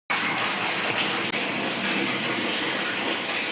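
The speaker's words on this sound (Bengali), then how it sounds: "আমি এবার বোতলে জলগুলো ভরবো।" Tap water gushes steadily into bottles in a home kitchen, a loud, continuous rushing stream up close with one brief dip, and no speech.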